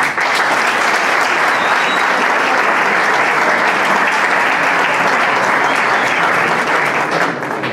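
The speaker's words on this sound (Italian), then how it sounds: "Vorrei tributare loro un applauso." Loud, sustained audience applause at a symposium, with many hands clapping evenly and close throughout, unbroken and without speech.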